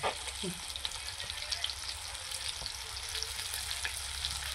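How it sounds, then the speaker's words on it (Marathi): KFC-style crispy chicken pieces frying in a pan, one side browning, give a steady, fairly quiet sizzle and crackle throughout, with a few soft clinks near the start. "एक बाजू चांगल्या रीतीने शेकू द्यायची"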